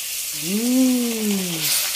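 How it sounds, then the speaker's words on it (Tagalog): Chicken pieces frying in hot oil give off a steady, bright sizzling hiss that runs the whole time, while a brief voiced hum rises and falls over it in the middle. "Ipa-fry na natin siya guys"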